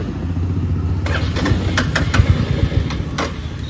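A Royal Enfield Meteor 350 motorcycle that will not start without the throttle, its starter cranking and the engine catching in uneven bursts, loud and close against a steady low rumble.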